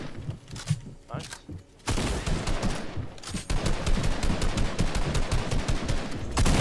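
Rapid automatic gunfire in a multiplayer shooter game, a dense continuous burst of shots after a quieter opening, loud and sustained through most of the stretch with faint voices underneath.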